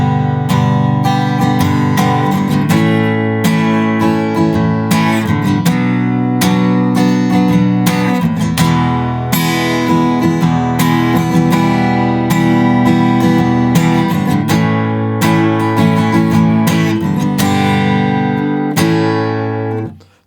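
Acoustic guitar strums the chorus of a song from Alan Wake as a full, steady chordal rhythm, loud and close, sustained for about twenty seconds with no talking.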